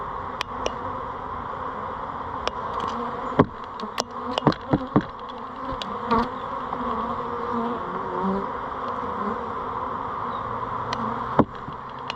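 Honey bees buzz around stacked hive boxes while colonies are combined, a steady dense hum with individual bees zipping close past the microphone now and then, no voices.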